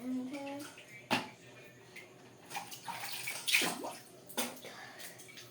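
Tap water running and splashing into a basin during an ASMR routine, with irregular bursts of flow and handling sounds, soft and close, alongside occasional quiet voice.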